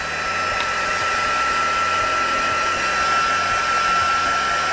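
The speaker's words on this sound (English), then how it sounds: "I'm just going to run over this with the heat gun just to make sure that those inks are really" A heat gun blows steadily and loudly at close range while drying alcohol inks on a craft piece, a constant whooshing hiss with a fixed whine that holds unchanged throughout.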